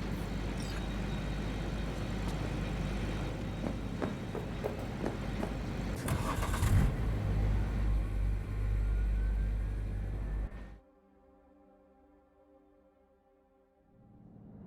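Car ride in Cyberpunk 2077: a steady, loud engine rumble with road noise runs for about ten seconds, then drops away abruptly to a quiet, hollow interior hum.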